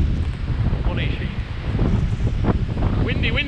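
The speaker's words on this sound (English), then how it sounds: "Windy." Strong wind buffets the microphone with gusty, rumbling noise on a Beacon Hill campsite, while a voice is briefly heard under it.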